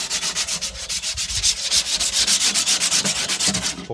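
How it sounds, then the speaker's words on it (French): Rough sanding of a drum being prepared for paint for a solar shower: rapid, rhythmic scraping strokes, loud and close, repeating steadily throughout with no voices. "ponçage grossièrement du bidon"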